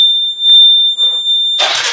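A Royal Enfield Himalayan motorcycle, with its choke on, begins with a steady high electronic alarm tone, then a short cranking burst before the single-cylinder engine catches and runs loud and close.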